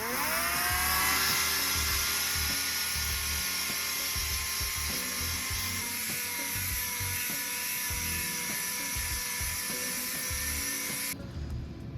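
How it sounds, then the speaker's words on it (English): A power sander whines steadily with a high-pitched drone as it grinds down the plastic molding of a racing lawnmower, running continuously at close range before cutting off near the end. "I got that pretty well sanded down a little bit"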